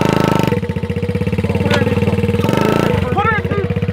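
A 200 HP Can-Am engine with a faulty throttle cable idles with a steady low, pulsing rumble that briefly changes pitch. People talk loudly over it.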